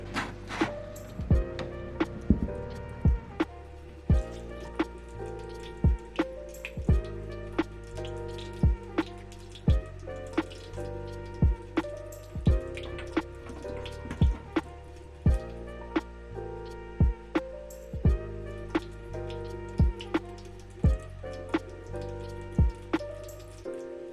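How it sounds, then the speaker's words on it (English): Water is poured onto a plant in a small pot during winter repotting and lands in steady irregular drips and splashes for about twenty-four seconds, close and fairly loud, with no talking. "And I need to water it."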